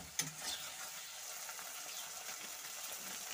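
Small kachki fish and potatoes frying in a pan being stirred, giving a steady soft sizzle with a brief scrape of the spatula near the start and no talking.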